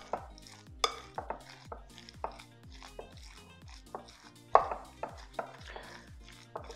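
Mince filling for stuffed peppers being mixed in a pot, a spoon knocking and scraping against the sides in a steady run of close taps and clinks with scattered louder knocks.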